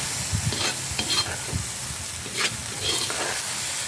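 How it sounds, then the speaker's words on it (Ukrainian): Cream is stirred into mushroom soup with vermicelli in a pot, producing soft repeated scraping and swishing strokes over a low bubbling hiss, close and without talking. "Додаю вершки так. Перемішуємо."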